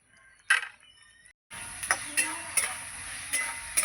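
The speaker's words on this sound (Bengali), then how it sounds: "এই যে আলুর সঙ্গে মশলা কিন্তু আমি কষছি আর একটু কষে নেব" Potatoes with spices stir-fried in a pan, a soft sizzle running under repeated scraping stirs that come in sharp irregular strokes, close up, with no talking.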